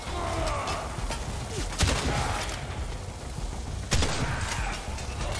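Rapid bursts of weapon fire in the video game Warframe while running through a laser-filled course, with sharp louder shots punctuating the steady clatter.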